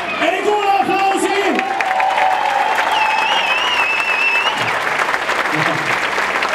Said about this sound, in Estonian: Ei kuule aplausi!